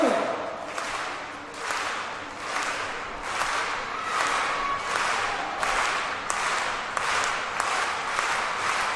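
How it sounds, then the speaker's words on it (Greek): A stadium crowd at the 2nd Cyprus International Athletics Meeting claps in steady unison for an athlete's final attempt, the beats getting sharper and louder as the rhythm builds, with faint crowd voices underneath. "Αρχίζουμε λοιπόν το χειροκρότημα το ρυθμικό για την τελευταία προσπάθεια του Μίλτου Τεντόγλου."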